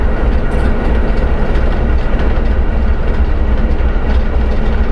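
A ChME3 diesel shunting locomotive hauls ten railway wagons toward a repair depot, heard from the cab as a loud, steady low engine rumble mixed with continuous rolling clatter of wheels, with no one speaking.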